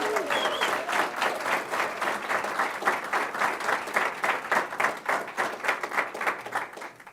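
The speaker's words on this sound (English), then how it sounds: "I'd like you to give her a round of applause" An audience at a board of education meeting gives a steady round of applause for a student's outstanding performance, the clapping continuous and moderately loud, with no talking over it.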